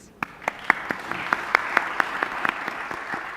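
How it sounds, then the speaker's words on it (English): Audience claps at the end of a World Economic Forum panel on South Africa and Nigeria, sharp distinct handclaps in a fairly regular rhythm over a roomy background, sounding like a few nearby clappers. "A round of applause, please."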